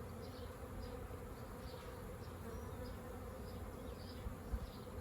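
A swarm of bees fans at the entrance of a hive box, making a steady, dense buzz that continues without a break. It is fairly faint, with no voices.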